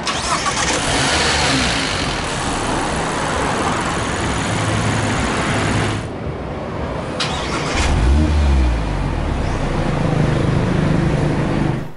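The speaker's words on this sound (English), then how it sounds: "Put your foot on the clutch and hit this engine start stop button to fire up the engine." A 2023 Mazda MX-5 Miata soft-top with the 2.0 Skyactiv-G engine and manual gearbox fires up with a brief starter whir, catches into a loud rev flare, then settles to a steady, close idle.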